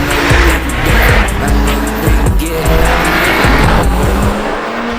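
Two hot hatches, an AMG A45S and a Golf R, accelerating hard, their engines roaring loud and close with rising revs, gear-change dips and faint tyre squeal throughout.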